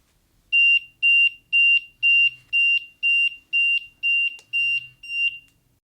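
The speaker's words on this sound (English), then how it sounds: "By default, the RDS-32 will provide a visual, audible, and vibration alarm." Audible alarm of an RDS-32 radiation dose meter: ten evenly spaced, loud high electronic beeps in a steady rhythm, with a faint low buzz of vibration under a couple of them.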